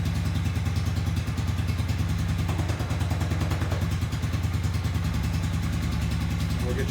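Motorcycle engine idling after a no-choke start in a temperature-controlled room, a loud, close, steady rapid chugging beat that runs throughout.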